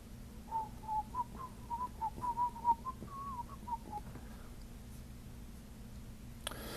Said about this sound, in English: there's no one around me, so I can whistle